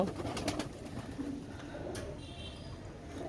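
A domestic pigeon, a pure-bred female kept by a breeder, gives a soft, low cooing call close by, brief and fairly faint against quiet room noise.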